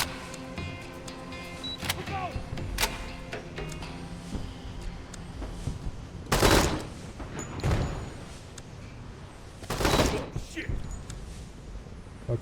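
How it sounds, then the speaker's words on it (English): Scattered gunshots crack in the tactical shooter game Door Kickers 2, a few sharp loud bursts spaced several seconds apart over steady game ambience, with someone talking throughout. "lots of gunfire going on"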